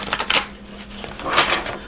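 Tarot cards shuffled in two short bursts of papery riffling, close and fairly soft, with a brief pause between.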